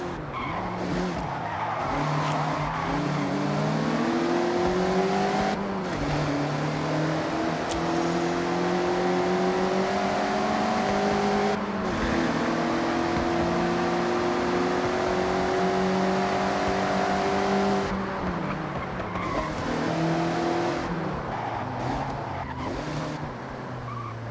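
A Mazda MX-5 driven hard in a Forza racing game, its engine revving up and down through repeated gear changes while tyres squeal and skid through sideways corners, loud and continuous for the whole stretch with no talking.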